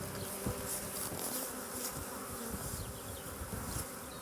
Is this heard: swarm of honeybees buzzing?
yes